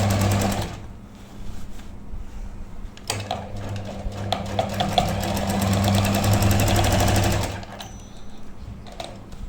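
An electric sewing machine stitches a sleeve into an armhole, running in a fast, steady rattle for several seconds after a short pause, then stopping, loud and close with no voices.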